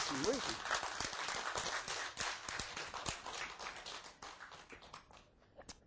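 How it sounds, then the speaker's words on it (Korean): A crowd claps at a Korean lecture, a brisk, busy patter of hands that starts loud and gradually thins out. Voices sound briefly near the start. "박수 쳐요 이 양반들아."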